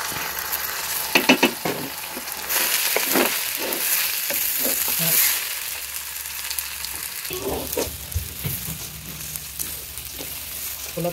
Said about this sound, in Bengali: পোলাও চালটা খুব ভালো করে ভেজে নিতে হবে, ভালো করে না ভাজলে ভাতটা ঝরঝরা হয় না।